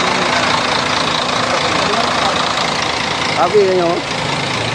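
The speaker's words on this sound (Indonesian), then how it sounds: "Inilah bus PT Putra Pelangi yang akan melancarkan para jamaah." A PT Putra Pelangi bus sits with its engine idling, a steady, even rumble that runs the whole time while people talk nearby over it.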